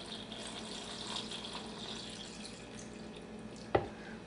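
Water pouring into a Vitamix blender jar with carrot tops and salt for a sauce, a steady running, splashing flow lasting throughout, with a brief sharp clink near the end.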